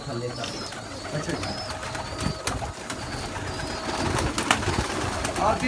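Many kinds of caged pigeons cooing steadily in a crowded loft, a busy overlapping murmur close by, with someone talking over it.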